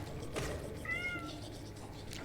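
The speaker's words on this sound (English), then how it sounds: "my cat's meowing in the background." Domestic cat giving a single faint meow in the background, heard behind a low steady room noise with no talking.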